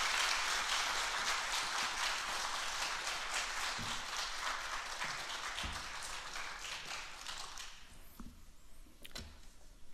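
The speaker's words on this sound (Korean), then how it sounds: "우리 좀 박수로 환영했으면 좋겠어요" A church congregation applauds steadily to welcome a newly arrived pastor before his first sermon. The dense clapping thins out toward the end.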